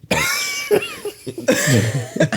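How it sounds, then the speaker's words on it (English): A person coughs close by, several harsh bursts that blur into laughter-like sounds. "You're coughing."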